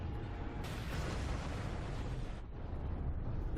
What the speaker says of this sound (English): Missiles detonate.